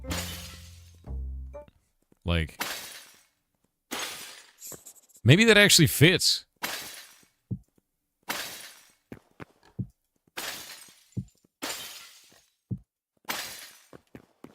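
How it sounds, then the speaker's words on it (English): Glass-breaking sound effects for a game play back as a series of separate sharp shatters, each a bright crash with a quick tinkling tail and a gap of silence after it, with a voice talking between some of them. "Is there ambient sounds of just breaking glass?"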